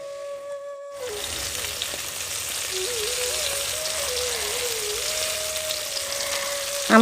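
Ridge gourd fritters, tied with thread, fry in hot oil with a steady, dense sizzle that starts abruptly after a brief quiet moment and holds evenly throughout, with a faint tonal whine running underneath.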